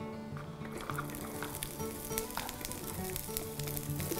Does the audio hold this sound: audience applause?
no